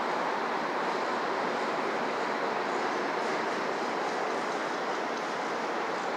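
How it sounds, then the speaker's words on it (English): A westbound Union Pacific intermodal freight train passes close by in Sacramento, California. It makes a steady, loud, rumbling roar that lasts the whole time, with no talking. "here comes westbound Union Pacific intermodal"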